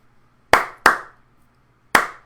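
Three sharp hand claps ring out alone in a quiet room, spaced unevenly with a quick pair followed by a longer gap before the third, each loud and close with a short decay.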